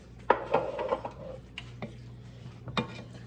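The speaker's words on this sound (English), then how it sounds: "I am going to go ahead and mix this thoroughly so that all the sausage, cauliflower, and zucchini is combined" A spoon scrapes and clacks against a skillet while sausage, cauliflower rice and zucchini are stirred together, giving a few irregular knocks and soft scraping over a low steady hum.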